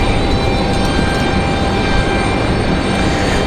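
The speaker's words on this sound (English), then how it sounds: "That 737 rolling out to the runway." Boeing 737 taxiing out to the runway at Raleigh-Durham International, a loud, steady jet engine roar and whine that holds unbroken, fairly close, with no voices.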